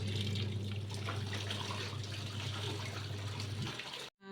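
A Sharp ES-T95CR twin-tub washing machine runs with water churning inside, a steady loud wash hum with sloshing that continues for about four seconds before cutting off abruptly.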